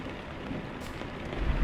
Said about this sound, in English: Oh, this is raining.